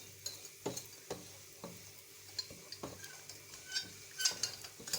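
A utensil stirs semolina roasting in a pan on a small stove for milky semolina halva, with soft scraping and tapping strokes, a few brighter clinks and a faint sizzle underneath.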